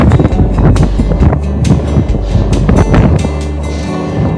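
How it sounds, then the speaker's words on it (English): Strong evening crosswind buffets the microphone in loud, continuous rumbling gusts on a canal towpath bike ride, with rushing air throughout and no voices. "it's quite windy this evening"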